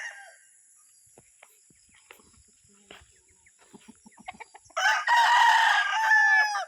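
Chickens in a small backyard coop: soft scattered clucks and scratching, then a loud, close rooster crow near the end.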